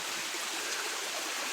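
Cold stream water rushes steadily in a natural outdoor spot, a continuous broadband wash close by with no voices.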